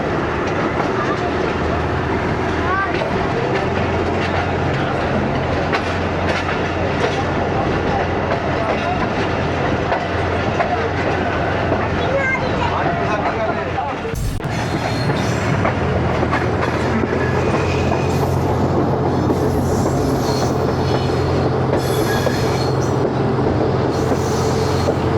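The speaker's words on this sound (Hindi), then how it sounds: "ज़बरदस्त ट्रैक वाइब्रेशन साउंड्स।" A coal freight train rumbles steadily along the tracks in Pakistan, loud and close, with continuous rolling rattle and a brief dip before the clatter resumes.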